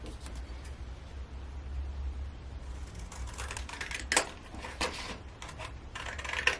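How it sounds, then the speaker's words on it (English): Scissors snip and crunch through stiff folded card in a series of uneven cuts, close up, over a low steady background hum. "very carefully, using my scissors, cut out this triangle"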